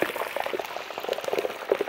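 Jalapeños crackle and bubble in hot canola or sunflower oil, a close, busy sizzle of quick irregular pops that stays steady for about two seconds with no voices.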